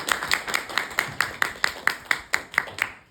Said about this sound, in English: Yeah, let's do a round of applause.